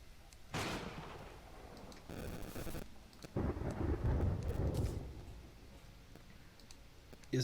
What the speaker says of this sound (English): Like this thunderstorm's gonna destroy the whole village or whatever.